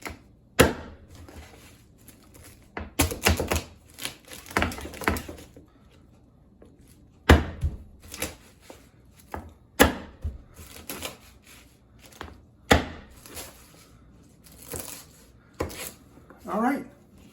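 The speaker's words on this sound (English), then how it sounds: "Let's keep cutting. I can't wait to see how this works on the meats." Cold Steel Seax knife chopping food in a kitchen, a run of sharp, irregular blade impacts on a cutting board, close and fairly loud, in bursts with pauses between strokes, with a person talking in the background.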